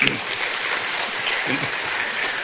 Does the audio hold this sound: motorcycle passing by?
no